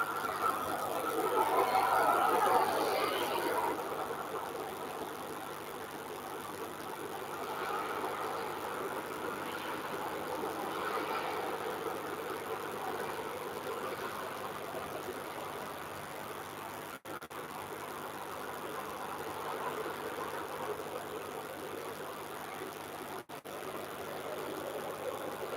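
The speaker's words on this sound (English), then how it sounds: "We've also a TUI taxiing away down to the runway." A TUI airliner taxis toward the runway at Manchester Airport, its engines a faint, steady distant drone with a slight swell near the start.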